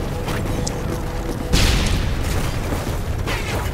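A planted bomb detonates in a video game: one loud, sudden boom over steady game background noise.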